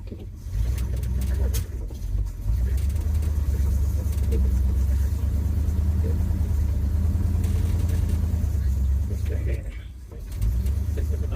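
A 1976 Ford F-150 Ranger pickup engine, not yet fully warmed up and suspected of a carburetor problem, runs in a steady low idle, dipping briefly about two seconds in and again near ten seconds.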